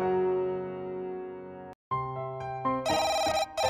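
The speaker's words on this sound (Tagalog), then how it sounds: "tumunog ang telepono" A telephone rings in a home, a sustained electronic ringtone that cuts off briefly and returns as a brighter, warbling ring, heard alone without any talking.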